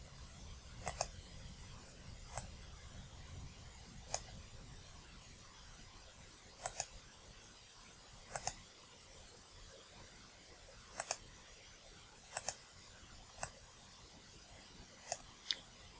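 A computer mouse clicks quietly in a hushed room: sharp isolated clicks, sometimes in quick pairs, spaced irregularly a second or more apart.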